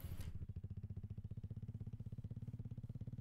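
A motorcycle engine in the mobile game BGMI Lite putters in a fast, even pulsing idle rhythm, close and steady, after a brief burst of noise at the start; no talking.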